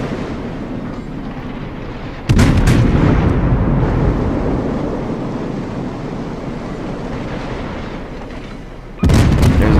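Main battery guns of a Des Moines cruiser firing in the World of Warships video game, heavy booming salvos that open and close a rumbling stretch of sustained roar, loud and close.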